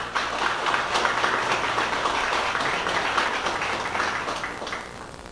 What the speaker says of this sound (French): Je vous demande une dernière fois de bien vouloir applaudir chaleureusement tous mes collègues et partenaires